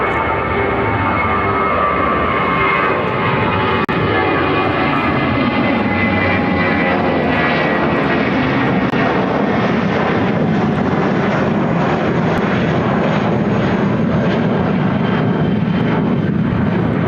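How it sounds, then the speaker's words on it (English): United Airlines Airbus A319 jet taking off at Chicago O'Hare, a loud sustained engine roar with broad rumbling noise that holds steady throughout, heard from fairly close with no talk. "This is United Airlines 786 taking off to Burlington on the A319."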